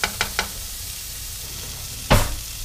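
A blackened redfish (red drum) fillet cooking through in a hot pan, a steady hiss of sizzling with a few light taps at the start and a louder burst of spattering near the end.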